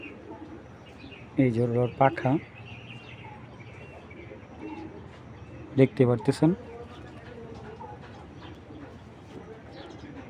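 Pigeon cooing in two short bursts near the start and middle, close by, with someone talking over and between them.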